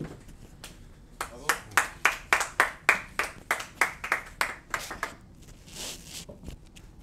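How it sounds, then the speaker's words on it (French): Rhythmic clapping in a steady beat of about a dozen distinct claps from a small audience at a Semikha rabbinic diploma ceremony in Kfar Habad, close by, then fading into softer scattered claps near the end. "Un grand applaudissement aussi"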